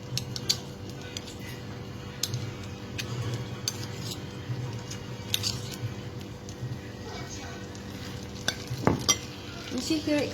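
Danish meatballs (frikadeller) frying in a pan give a steady, close crackling sizzle throughout, with occasional utensil clicks and scrapes against the pan.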